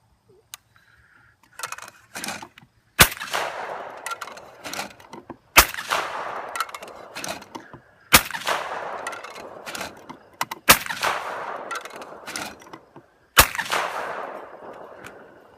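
Beretta A400 Xtrema shotgun blasts at targets outdoors, six loud sharp reports spaced a few seconds apart, each trailing into echo and rustle.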